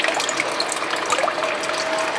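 Water runs steadily from a compost-heated pond heater in a greenhouse, a continuous close trickling and splashing with no voices.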